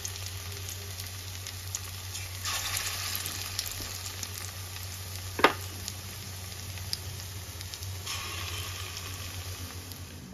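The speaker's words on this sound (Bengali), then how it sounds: "একই রকম ভাবে আমি সব বড়াগুলোকেই ভেজে নেব।" Fritters (bora) frying in oil make a continuous close sizzle with fine crackling throughout, swelling louder for a few seconds at a time, with a single sharp clink of a utensil midway and a low steady hum beneath.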